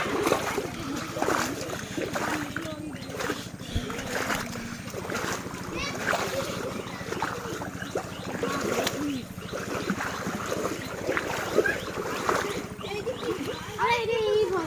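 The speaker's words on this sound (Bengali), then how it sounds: "আমিও যাই গোসল করি এই নদীতে।" People bathing in a river in rural Bangladesh splash the water steadily throughout, with voices talking over the splashing and birds calling in the background.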